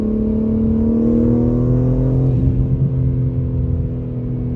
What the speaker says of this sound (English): It's not super loud, the exhaust tone.